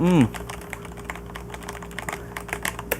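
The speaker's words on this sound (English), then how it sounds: "I particularly like this keyboard" Keys clatter on a Corsair gaming keyboard in quick, uneven bursts of close, light clicks after a brief voice at the start, with a low background hum throughout.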